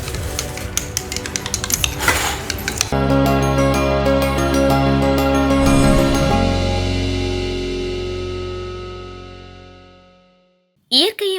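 Crushed medicine balls are stirred into water, a quick run of clinks and scrapes against a vessel, loud and close, followed by a long sustained ringing tone that fades out.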